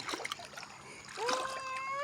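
Rainwater splashes and gurgles as it flows over a flooded road during a storm, with a rising tonal whine, likely an engine, emerging midway.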